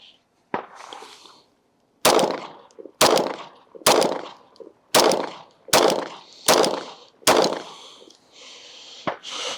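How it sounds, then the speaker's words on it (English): Seven loud, close pistol shots from a Canik 9mm, fired in a steady string about one second apart, with a sharp crack and short ring after each one. "next we're gonna be shooting the Canik"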